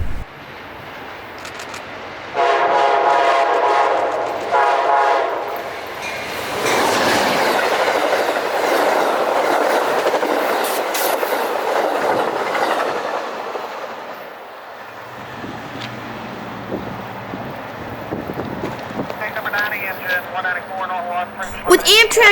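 Amtrak 90 passenger train blasts through Collier Yard in Petersburg, Virginia, a loud, sustained roar of passing cars with clickety-clack and repeated horn blasts, fading toward the end while voices talk nearby.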